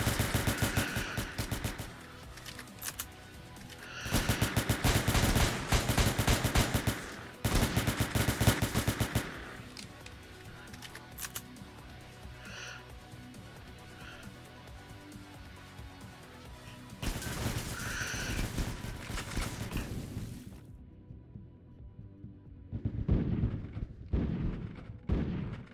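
Shotgun fire in the tactical shooter game Entry Point, heard as repeated loud blasts in dense bursts mixed with other gunfire, with quieter gaps between volleys.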